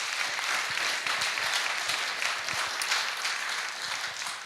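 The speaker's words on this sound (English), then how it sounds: "So will you guys just give Steve a big old round of applause?" A crowd at the SteemFest conference in Bangkok gives a lively, continuous round of applause, close and full, with dense clapping holding throughout.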